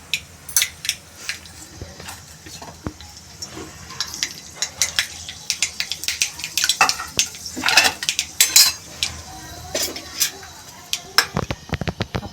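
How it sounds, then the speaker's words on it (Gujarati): Sprouted mung beans being tempered with mustard seeds in a pan: a steady run of sharp metallic clinks and scrapes from a spoon against cookware over a soft background crackle, fairly close and without talk. "આપણે મગનો વઘાર કરીશું આપણે રાઈ નાખીશું"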